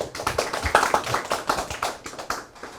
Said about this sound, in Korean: 김종진 연구위원님 큰 박수로 맞이해 주시기 바랍니다.